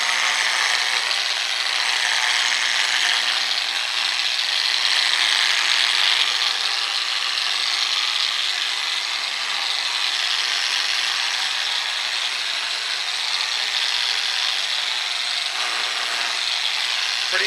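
A polisher with a 1000 grit pad works a granite countertop, giving off a continuous close grinding whir that rises and dips slightly without pause, with no talking.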